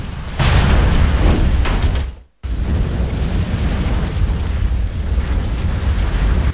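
An explosion in the video game Resident Evil Outbreak, a loud rumbling roar that breaks off abruptly with a brief silence, then continues as a dense, sustained booming rumble.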